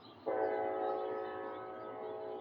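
A train horn blasts suddenly and holds as a long, steady, loud tone with layered harmonics, slowly fading slightly as the train passes.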